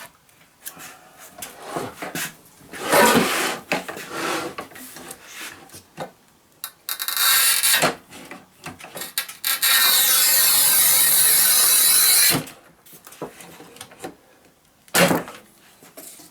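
A Topvei V-2012 manual tile cutter, a 1200 mm model, running its scoring wheel across a tile in long grinding rasps with clicks and clunks of the handle in between, close and loud, no voices.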